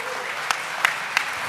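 An audience at a conference keynote claps in a soft, distant wash of applause with a few sharper individual claps standing out.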